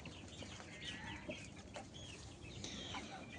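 White broiler chickens on a Bangladeshi poultry farm cluck and murmur in a steady, moderately close chatter, with scattered higher calls over a low background rumble and a sharp knock at the end.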